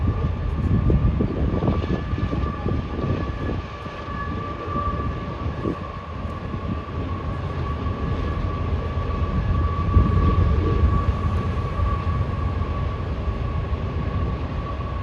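A heavy eastbound freight train rumbles past steadily for the whole stretch, a loud continuous low roar with engine drone and a sustained tonal hum, no voices.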